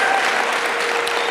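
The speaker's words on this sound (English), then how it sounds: "I think we need to give a round of applause for Dr." An audience claps for Dr. Chirisa at a business and entrepreneurship mentorship class, a dense, steady round of applause filling the room, loud and close, with no speech over it.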